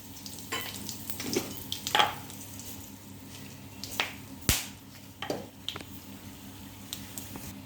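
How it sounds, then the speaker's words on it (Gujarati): Soft crackling and popping from cumin seeds, bay leaf, cloves and dried chillies frying in hot oil for Punjabi chole, with scattered sharp clicks and stirring sounds against a quiet hiss. "અહીંયા તેલ ગરમ થઈ ગયું છે તેમાં એક ચમચી જેટલું આપણે જીરું ઉમેરી દઈશું"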